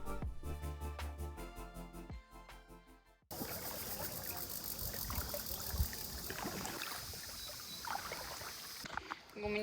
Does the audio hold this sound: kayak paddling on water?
yes